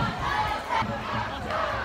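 A large climate strike protest crowd in a downtown street, chanting and shouting together in a steady, dense roar of many voices close around.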